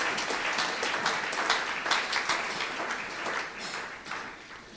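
A church congregation at a Sunday service applauds steadily, with dense clapping filling the room at moderate loudness and slowly thinning toward the end.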